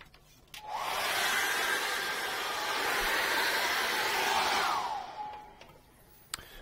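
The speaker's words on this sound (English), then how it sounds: "I'm going to dry this off with a hairdryer." A hairdryer blows over an acrylic painting of snow-capped mountains. It switches on with a short rising whine, runs as a loud steady whooshing roar for about four seconds, then spins down and stops, followed by a couple of faint clicks.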